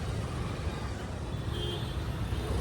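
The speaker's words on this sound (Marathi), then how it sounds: "नगरचं ट्रॅफिक" Road traffic in Nagar on the way to a cinema, a busy low rumble of cars and heavier vehicles passing close by with a faint high tone briefly rising over it.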